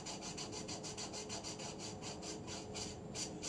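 A foam sword for LARP being sanded with 240 grit sandpaper, a quick regular back-and-forth rasping stroke repeated about twice a second, close and steady with no talk.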